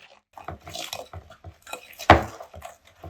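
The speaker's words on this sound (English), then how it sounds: "Add the broken up Oreos and the white chocolate chips and fold those in." A spoon folds broken Oreos and white chocolate chips into sticky vegan cookie dough in a bowl, giving soft scrapes and dull knocks with one sharper clink near the end.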